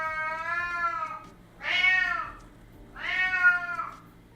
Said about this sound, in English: And Rohan is our very noisy cat who doesn't like being left alone inside